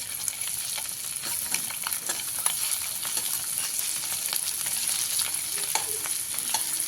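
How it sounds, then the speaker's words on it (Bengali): Eggs frying in a wok, a steady close sizzle with crackling spatters and occasional light scrapes of a spatula as they are turned, no voices. "দিয়ে উল্টে দিয়ে অপর সাইডটিকেও ভেজে নেব"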